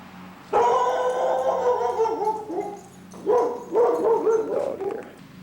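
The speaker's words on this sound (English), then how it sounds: "dog here." A female dog barks and howls close by, a drawn-out howling bark followed by a pause and then several shorter yelping barks, loud and alone without talk.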